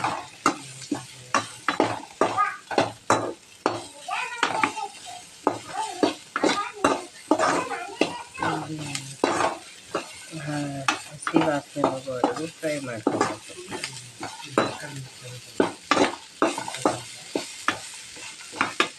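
Chicken frying in oil in a pan for a village-style chicken sambar, stirred continuously with a utensil: steady sizzling and frequent sharp scrapes and clacks against the pan, loud and close, with no pause for nearly twenty seconds.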